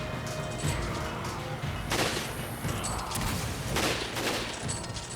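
Rapid bursts of gunfire and crashing impacts from a Resident Evil 5 co-op firefight, steady and dense throughout with a few louder cracks and no speech.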